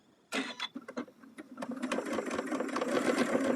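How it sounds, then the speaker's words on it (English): A sewing machine running a top stitch, starting with a few separate thumps and then a steady, quick mechanical chatter that grows louder and holds, close and alone without talk. "let's go to the sewing machine once more. And I have it set up to do a top stitch."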